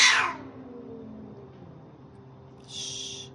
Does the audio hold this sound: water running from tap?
no